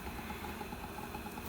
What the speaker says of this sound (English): what you hear is the vac running on low right now just to draw air across them